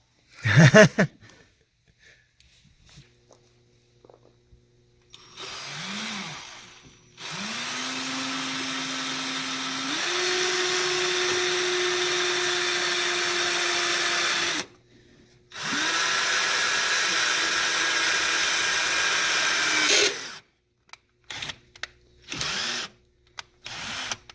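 A power drill whirs in several bursts, boring a hole in a 2019 Mustang GT without a center punch, rising in pitch as it spins up and bores, with short pauses and clunks between runs.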